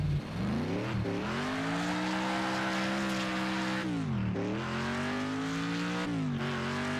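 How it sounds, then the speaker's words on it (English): Engine revving of a race car in the Next Car Game racing video game, a steady loud drone rising and falling in pitch with three brief dips as the throttle shifts, continuous throughout with no talk. "man, listen to that engine"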